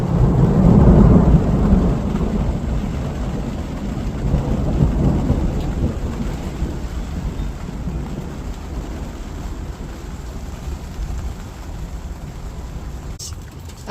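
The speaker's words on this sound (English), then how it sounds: "It's still kind of raining a little bit, but it's getting better." Rain falls steadily on a garden with raised beds, a dense continuous hiss with low rumbles, strongest in the first seconds and then easing to a softer, even patter.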